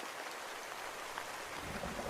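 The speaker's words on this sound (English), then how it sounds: "This is rain." Steady rain sound effect played from a phone app, a dense, even hiss of falling rain heard alone at low level with no pauses or talking.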